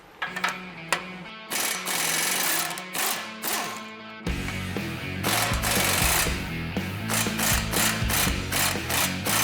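Ratchet loosening 22 mm suspension bolts on the front lower control arm of a 2022+ Toyota Tundra, rapid close clicking in short bursts followed by a longer, louder stretch of quick mechanical ratcheting.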